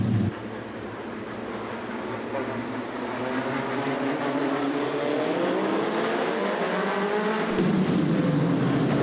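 Race cars run laps indoors at the Rumble in Fort Wayne, a steady roar of engines rising and falling as cars pass, with some tire noise in a reverberant hall.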